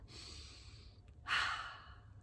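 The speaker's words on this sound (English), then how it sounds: "Take a nice big deep breath." One slow, deep breath taken in a quiet room, a soft airy inhale rising to a fuller breathy rush near the end, close and faint with no talking.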